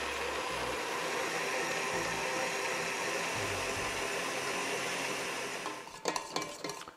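Electric mixer whipping cream for a mirabelle plum tiramisu, a steady broadband whirring hiss held for about six seconds before stopping, followed by a few clinking knocks.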